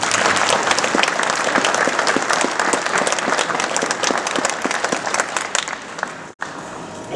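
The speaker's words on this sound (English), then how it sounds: "I think a round of applause for Jimmy." Sustained applause for Jimmy at a 1916 GPO Garrison centenary commemoration, a large crowd clapping steadily with individual sharp claps standing out, briefly cut by a momentary dropout near the end before resuming.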